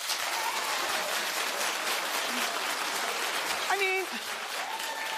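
A TV talk-show studio audience claps steadily and fairly loud, with a brief spoken remark heard over the clapping.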